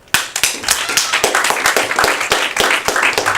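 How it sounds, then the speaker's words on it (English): A group of amateur singers at a Fort Eustis talent competition claps together in a fast, dense volley of sharp hand claps, steady and close, with no talking. "give yourselves a round of applause"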